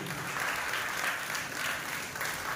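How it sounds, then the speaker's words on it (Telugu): A church festival congregation claps together in steady, dense applause that holds at an even level throughout, with no voices standing out. "అందరూ చప్పట్లు కొడదాం"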